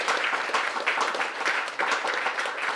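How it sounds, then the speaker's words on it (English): Round of applause from a gathered crowd at Bath City FC's shirt sponsors' draw, dense even clapping filling the room throughout, fairly close and steady with no talk. "So, big round of applause for Bob for"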